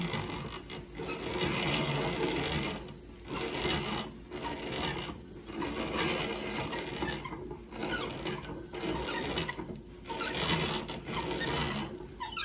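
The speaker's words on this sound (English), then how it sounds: "It goes in the hopper and he just cranks away." A hand-cranked grinder works masa for Panamanian tortillas, giving a continuous close gritty rasping churn that swells and dips in a regular rhythm with each turn of the crank, with no talking over it.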